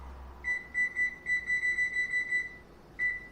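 A kitchen timer gives a run of short, bright electronic beeps in quick succession, then a brief pause and one more beep, close and clear with no voices.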